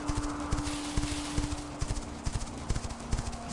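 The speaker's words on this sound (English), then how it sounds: "All the wild horses." Hooves of wild horses clip-clop steadily in the game Quinfall, a brisk, uneven walking rhythm of soft knocks running throughout over a constant ambient hum, fairly close and moderately loud.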